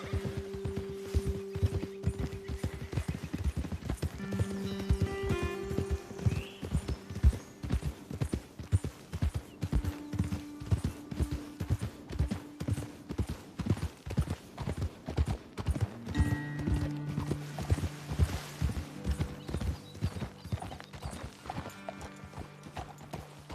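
Horse hooves clip-clopping at a steady walking rhythm during riding in the video game Red Dead Redemption 2, close and continuous, with brief whinnies and background music tones throughout.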